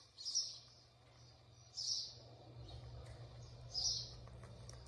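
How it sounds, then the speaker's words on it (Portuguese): Small birds give three short high chirps spaced about a second and a half apart, faint and a little distant, over a low steady hum, near a potted vegetable garden with a tomato plant and biquinho pepper plants. "Os passarinhos também, olha, já vieram aqui, visitando aqui."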